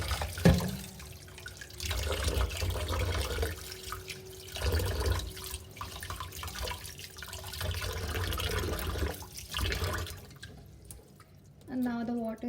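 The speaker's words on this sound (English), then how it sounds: "I've taken water in the bowl and I'm gonna rinse it and clean it again until the water is like full white." Rice being rinsed by hand in a bowl of water during home cooking gives soft sloshing and dripping sounds that continue under steady talk.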